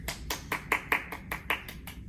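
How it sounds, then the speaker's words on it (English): A single person's hand claps, about ten evenly spaced, moderately loud and close, in thanks to college faculty and staff at a nursing (BSN) recognition ceremony. "I'd like to give you a round of applause."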